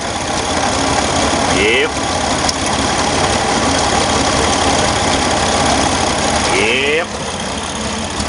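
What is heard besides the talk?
Chevrolet Corvair Monza engine idling rough, sputtering, burning oil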